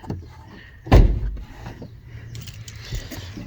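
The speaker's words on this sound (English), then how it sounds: "Pop the bonnet." The bonnet of an Opel Manta GTE Exclusive, dry-stored in a garage for about 30 years, opens with one sharp metallic clunk near the start. Softer mechanical rattles and creaks follow close by.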